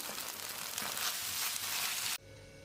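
Crushed soy chunks sauté in tomato sauce in a pan, giving a steady, close frying sizzle with light stirring that runs unbroken and then drops away to a quiet hum near the end.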